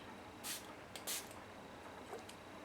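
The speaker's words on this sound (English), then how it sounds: "And I'm gonna spray a little bit" Two quick, soft spritzes from a spray bottle, close by in a quiet room, followed by faint rustling.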